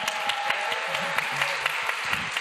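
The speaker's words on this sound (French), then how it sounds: "je voudrais bien qu'on l'applaudisse, s'il vous plaît." Seminar audience in a hall clapping for a guest, a moderate patter of applause with distinct individual claps and a few faint voices underneath.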